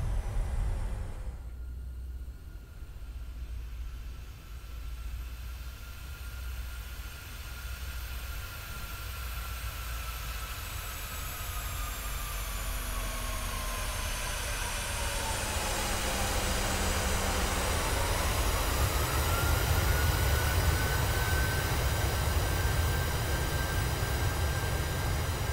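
A PMDG 737-700 in Microsoft Flight Simulator rolls out after landing as its thrust reversers stow, a loud, broad roar with whining turbine tones that sweep downward, then settle into a steadier hum as the noise builds.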